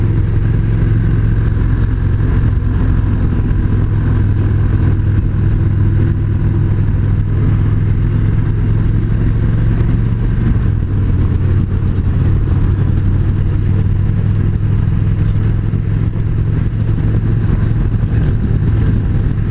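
Victory Magnum X1 Stealth Edition motorcycle riding on the road, a steady low engine drone with wind rush, moderately loud and close throughout with no talk.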